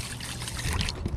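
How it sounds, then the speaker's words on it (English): Rice being washed, with water sloshing and trickling through the grains in a pot, close and splashy for a moment. "I usually wash my rice 3 times"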